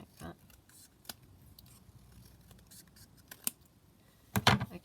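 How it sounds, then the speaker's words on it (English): Scissors cut fabric for a basic pocket, giving a few sharp snips spread across a quiet background, with a louder cluster of cuts at the end. "So let's just cut it down here a bit,"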